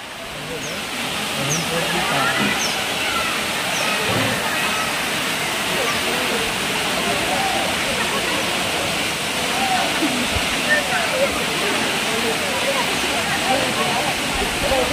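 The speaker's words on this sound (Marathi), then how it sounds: "इथे वरती सुद्धा मागे धबधबा आहे." A waterfall at Dhoot Papeshwar in Rajapur, its steady broad rush of falling water filling the scene from start to finish, with bathers' voices faintly mixed in at times.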